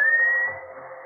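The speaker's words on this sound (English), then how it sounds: "Andrew's whistling for you." A man whistles a single sustained call in a radio drama, a clear, slightly rising steady tone lasting about half a second before fading out.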